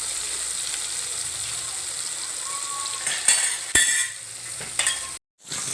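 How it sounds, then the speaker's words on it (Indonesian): Tempe gembus fries in hot oil in a wok with a constant bright sizzle. A few short utensil clinks and scrapes cut through near the end. "Ya, kita goreng."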